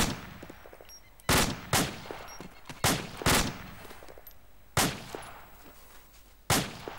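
Light gunfire in a war shooter game: six or seven separate loud, close single shots spaced irregularly a second or so apart, each with a short decaying echo over a quiet background.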